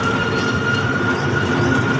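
A passenger train runs steadily, heard from inside the carriage as a constant loud rumble with a faint high whine, unbroken and without speech.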